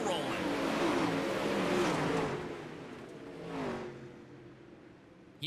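A 360 sprint race car engine revs and whines loudly after a barrel roll crash, the pitch rising and falling as it drives off, then fading, with a commentator talking over it.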